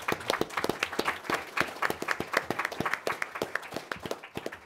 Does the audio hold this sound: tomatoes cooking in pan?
no